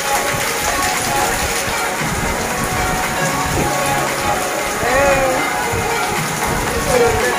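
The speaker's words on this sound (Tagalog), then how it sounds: "Lakas ng ulan, guys." Steady heavy rain hisses across the whole scene, with faint voices and scattered movement underneath.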